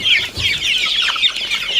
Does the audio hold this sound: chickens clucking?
yes